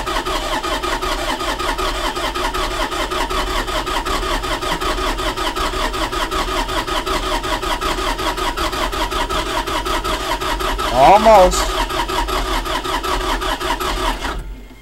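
An Allis Chalmers 6080 tractor cranks over in a cold start, the starter whirring loudly and rhythmically for many seconds with a brief catch and surge near the end but no full start, with someone speaking briefly.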